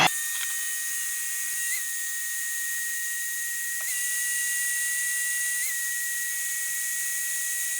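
A hydraulic system cycles to bleed air from lines that had been opened, making a steady hissing whine with high held tones that shift slightly every couple of seconds, with no talking.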